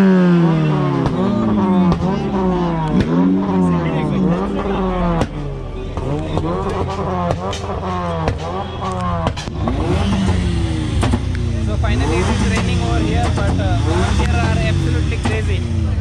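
Modified tuner cars, including Skodas and Hondas, rev loudly and repeatedly at a street meet in Kolshet Creek, Mumbai, with overlapping engine sweeps, sharp crackles and voices in the crowd throughout.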